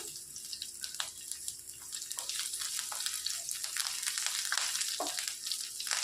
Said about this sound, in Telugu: ఇవి మంచిగా ఫ్రై అయిపోయాయండి